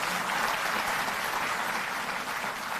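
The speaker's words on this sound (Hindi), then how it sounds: "सभी लोग जोरदार तालियों से अपना सहयोग देंगे।" Sustained audience applause at a live public event as names are announced, a steady dense wash of clapping holding at even loudness throughout with no talk over it.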